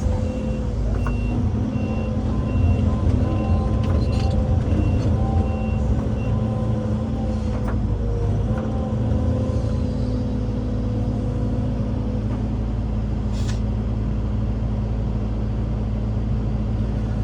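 A Mercedes 1113 truck stuck in dry ground holds a steady, loud engine drone at a constant pitch, with a faint repeating beep riding over the rumble and no talk.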